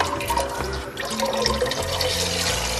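Chicken broth poured from two small cartons into a cooking pot, a steady, moderately quiet liquid stream splashing and gurgling continuously without speech.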